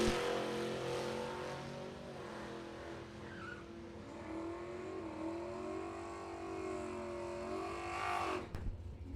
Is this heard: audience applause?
no